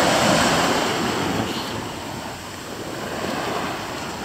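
Ocean waves wash onto the beach at Varadero in a steady, close, full surf roar that swells and eases slightly, with a light breeze and no voices.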